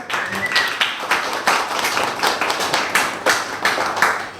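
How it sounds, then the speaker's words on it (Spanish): Audience applause at a book talk with two authors in Florencio Varela, with irregular claps rising and falling at moderate loudness for several seconds and no speech over it. "un aplauso por favor"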